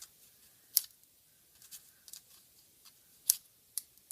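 Scissors trimming the ends of a ribbon bow on a handmade card, with several quick, crisp snips spaced irregularly and heard close up in a quiet room.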